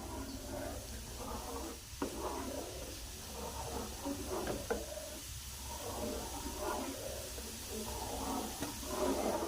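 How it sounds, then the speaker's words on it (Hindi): Radish pieces cooking in a frying pan on a lit stove for radish paratha, giving a steady low sizzle and hiss that runs unbroken throughout, with faint clinks. "तो अपनी सारी मूलियों को फ्राई पैन में डाल लिया है। तो हम इसे पकाएंगे।"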